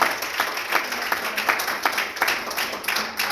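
Church congregation applauding during a Spanish-language sermon, a steady wash of clapping with irregular sharper claps, moderately loud and continuous throughout.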